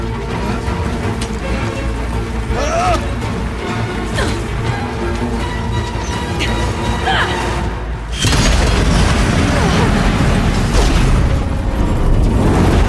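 Explosive ammo detonating in the video game Horizon Zero Dawn: The Frozen Wilds, heavy booms and crashes within a loud, continuous battle mix that grows denser and louder partway through.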